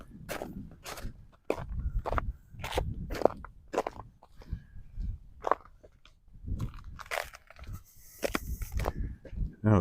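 Boots crunch through icy, crusted snow beside a frozen path on the southeast edge of Regina in March, footfalls close and loud in a steady uneven rhythm with brief pauses.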